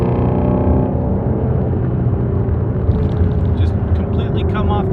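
A Ford Mustang GT350 V8 engine revs up while driving, a loud, steady rumbling drone held near 4,000 RPM before easing off, recorded from inside the car.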